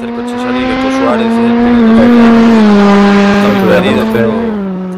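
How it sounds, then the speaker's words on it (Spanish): Rally car pulling away at the start of its run in a Rallymix championship at Portas, a steady, loud engine note holding and rising over several seconds while commentators talk over it. "Y el tercer coche sale de Suárez."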